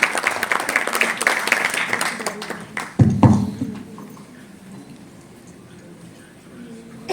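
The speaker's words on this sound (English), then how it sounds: "Can you please invite him with a big round of applause today?" Applause welcomes a guest at the launch of a women's handball league, with a crowd clapping for about three seconds, then a loud thump as the clapping fades into quieter room noise.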